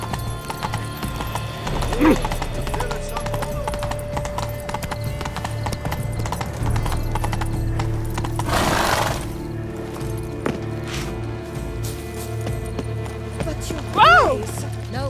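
A horse gallops in The Witcher 3: Blood and Wine, with continuous close hoofbeats over a low rumble, a brief whinny-like tone near the middle and end, and voices speaking over it.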